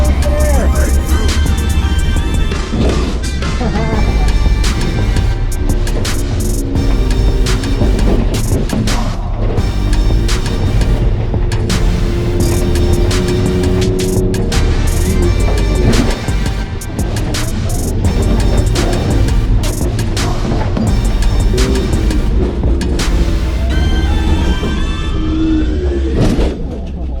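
A Mitsubishi 3000GT on rally coilovers is driven hard around a lap, its engine revving up and down with repeated gear changes, loud and close, with bumps, rattles and suspension thuds throughout.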